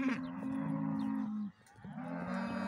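Cattle moo loudly and close in long drawn-out calls, two main bellows with a brief pause between, as calves are herded into a corral during livestock handling.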